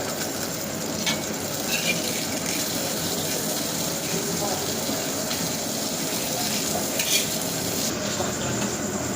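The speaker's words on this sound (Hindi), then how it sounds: "ये चपली पैटी जो है ये वो इसको फ्राई किया जा रहा है।" Chapli patties fry in hot oil at Lahori Fast Food, a steady close sizzle filling the whole stretch with busy kitchen noise and faint voices underneath.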